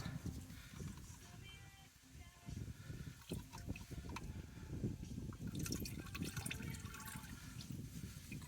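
Automatic transmission fluid drains and splashes from the filter sump of a Mitsubishi Montero transmission, a faint trickling, dripping pour that keeps going with uneven gurgles and spatters.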